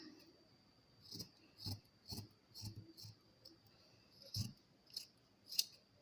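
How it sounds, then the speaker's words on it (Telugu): Scissors snip through blouse cloth along a chalk marking, a series of short, crisp cuts at an uneven pace, close and quiet with no talking. "ఇప్పుడు ఎక్స్ట్రా అనేది మార్కింగ్ కట్ చేస్తున్నాను"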